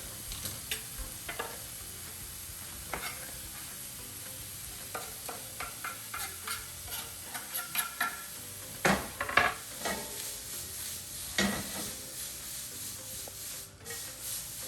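Bacon sizzles quietly in a pan with scattered scrapes and stirring clicks against cookware, faint and close, no speech.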